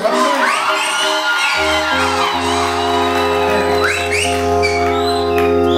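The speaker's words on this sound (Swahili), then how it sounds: "makofi kwa Yesu" A congregation at an engagement ring ceremony cheers and whoops loudly, with shouts rising over the crowd noise and steady sustained musical tones underneath.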